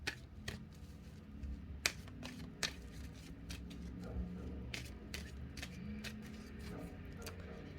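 Tarot cards are shuffled and drawn with a steady patter of soft riffling and crisp snaps and flicks of card stock, close by and quiet, with no talking.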